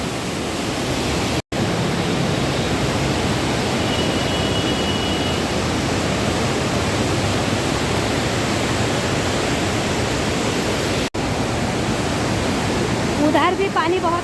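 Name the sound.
fast-flowing Ganges river water at Haridwar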